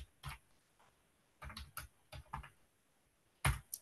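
Keys tapped on a computer keyboard while a page name is typed into OneNote: short, close bursts of clicks in separate clusters, ending in one louder strike like the enter key.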